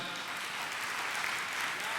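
A faint, steady patter of audience applause at an outdoor poetry recital at the Teja fair in Kekri, heard from a distance and never building.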